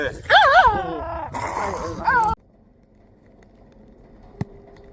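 A lost puppy found during a delivery run, whimpering and yipping in a few high, wavering cries close by. The cries stop abruptly and leave a quiet street background with one faint knock.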